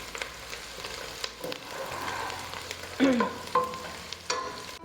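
Onions frying and browning with garam masala for beef pulao, a soft steady sizzle punctuated by spoon knocks and scraping against the pan.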